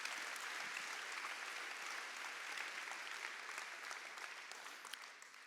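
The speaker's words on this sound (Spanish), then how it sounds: "Give the Lord a clap offering." Congregation clapping together as a clap offering at a church gathering, dense sustained applause filling the room for the whole stretch, slowly easing near the end.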